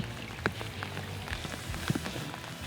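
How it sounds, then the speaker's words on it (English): Steady rain falls outdoors on a fishing trip in Arkansas, a continuous close patter with occasional heavier drops and no talking. "As the rain intensifies"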